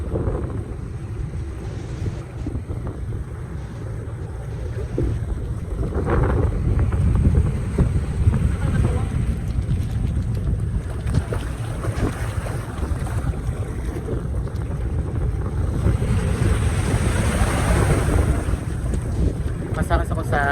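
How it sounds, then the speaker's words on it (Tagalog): A boat motoring across open sea off Siargao, Philippines, with a steady engine drone, wind roaring into the microphone and waves splashing against the hull throughout. "Masakas ako sa bangka."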